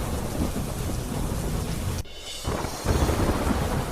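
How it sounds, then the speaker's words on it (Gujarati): Heavy monsoon rain pours down in a dense roar with rumbling thunder over flooded streets in Junagadh, Gujarat, broken by a brief sudden drop in sound before the downpour resumes. "જૂનાગઢમાં મેઘો મુશળધાર થયો. ધોધમાર વરસાદથી જૂનાગઢ પાણી."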